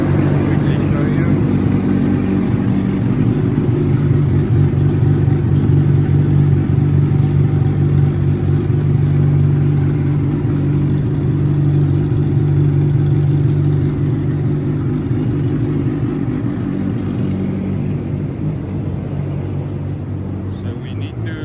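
A car's turbocharged engine revving hard on a dyno during a 2-bar boost check run, a loud sustained drone that holds steady then slowly tapers off over about twenty seconds.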